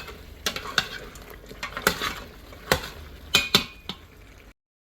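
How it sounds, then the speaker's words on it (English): Guyanese pepperpot stirred in an Instant Pot, a utensil scraping and clinking against the metal pot several times over a soft bubbling simmer, close and fairly quiet. "And let this cook for a bit. Stir occasionally."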